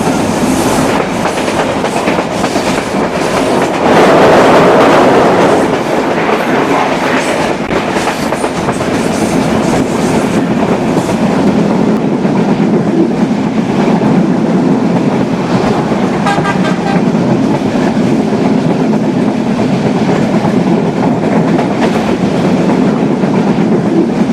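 The Banalata Express train from Dhaka to Rajshahi rumbles steadily along the tracks with continuous loud clatter and wheel noise, close by, a brief horn-like tone rising near the start.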